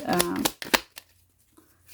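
Tarot reading cards being shuffled by hand: two brief papery riffling bursts close to the microphone, then near silence.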